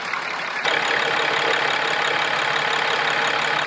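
A RAM 2500 pickup truck engine idles steadily nearby, a constant rough mechanical rumble with a slight rise in level after a moment, with no voices.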